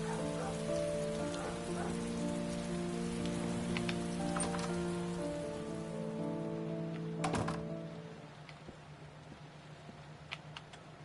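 Rain falling outside in the Heavy Rain video game, a soft, even patter of drops under a sustained musical tone, with a few sharper taps, growing quieter and thinner toward the end.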